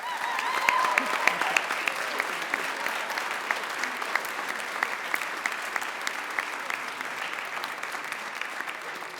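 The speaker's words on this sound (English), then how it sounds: "So could everyone please give Emily a massive applause?" A school symphonic band audience claps warmly, a steady crowd applause with distinct sharper claps popping out, strongest early and easing slightly toward the end.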